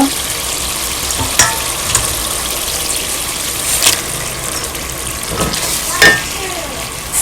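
Fish for a cauliflower curry fries in a pan with a loud, dense, continuous sizzle up close, broken by a few sharper pops and stirring scrapes.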